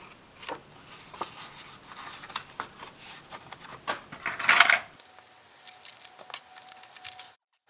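Scissors snip through a sheet of paper while making a tag book, a string of short close crisp cuts with a louder burst of handling rustle partway through, no talk.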